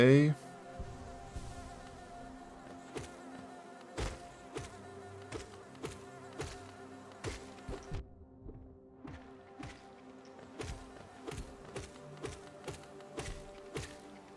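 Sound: bees buzzing in video game Hollow Knight

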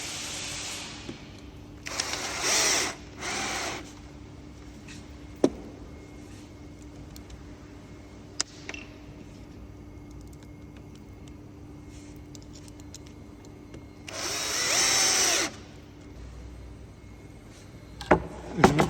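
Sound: power drill tightening screws into dresser legs

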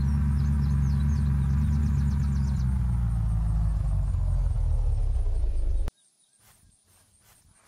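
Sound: car engine driving in the video game Unturned

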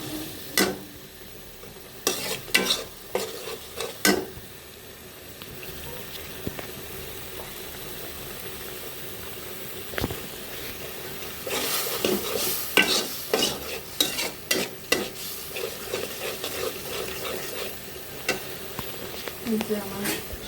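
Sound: stirring and mixing food frying in a pan

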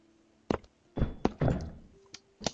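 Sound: door opening in the SCP Containment Breach video game

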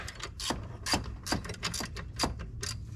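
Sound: ratchet tightening a bolt to tension a Toyota Camry timing belt

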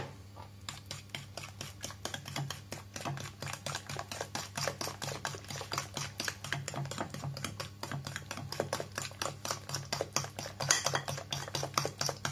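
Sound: stirring corn cookie mixture with oil

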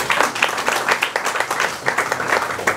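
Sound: applause

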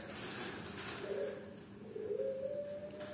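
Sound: perkutut (zebra dove) Majapahit cooing

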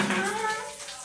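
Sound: water poured while bathing someone

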